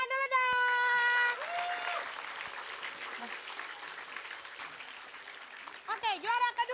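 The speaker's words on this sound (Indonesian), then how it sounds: "tepuk tangan dulu dong" A studio audience at a televised comedy variety show applauds in a sustained, fairly loud burst, with a voice speaking just before the clapping and again as it fades.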